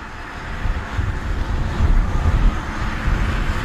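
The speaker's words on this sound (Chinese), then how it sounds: "这大风也太大了，今天5级大风，南风。" Strong force-5 south wind gusts across a rural farmhouse yard in early spring, a loud rumbling roar buffeting the microphone in swelling waves.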